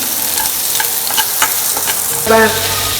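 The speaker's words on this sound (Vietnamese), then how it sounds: "Bây giờ mình lại đặt chảo lên, mình xào cái ớt này." Chili peppers stir-fried in a pan give a loud, steady sizzle with scraping stirs, then a brief clatter and tonal ring of the pan near the end.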